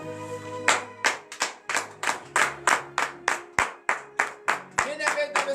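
Rhythmic clapping from a church congregation at a Thursday morning prayer service in Comè, Benin: steady, evenly spaced hand claps, close and fairly loud, with sustained singing or voices running underneath.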